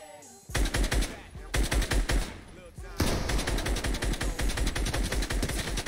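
Rapid automatic gunfire in a competitive shooter video game, loud sustained bursts of shots packed closely together, broken by a brief pause before resuming in continuous rattling streams.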